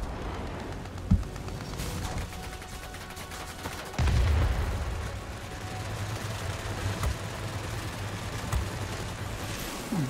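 Aircraft machine guns fire in bursts during a World of Warplanes dogfight in an Arado 68 fighter, rapid rattling volleys over a steady engine drone.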